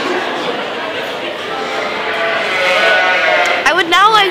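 Sheep bleat at a county fair, a loud, wavering bleat rising out of a dense, close chorus of overlapping animal calls and crowd noise.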